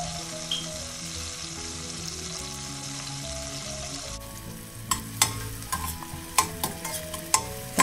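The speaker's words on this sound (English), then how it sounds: "And stir fry them until the onion turns like glassy, like transparent." Ginger and onion pieces stir-frying in hot oil in a pan, a continuous sizzle that turns into sharp, irregular spatula scrapes and clatters in the second half, with no voices.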